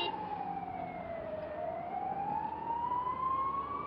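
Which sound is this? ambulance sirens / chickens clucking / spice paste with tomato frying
ambulance sirens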